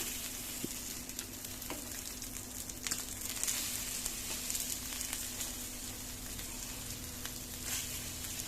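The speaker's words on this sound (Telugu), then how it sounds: "ఇలా ఆయిల్ వేసిన తర్వాత ఒకవైపు కాలిన తర్వాత రెండో వైపు కూడా తిప్పుకోవాలి స్పూన్తో" A cabbage omelette sizzles softly in oil in a pan, giving a steady, quiet crackle with occasional small pops under a faint low hum. Nobody speaks.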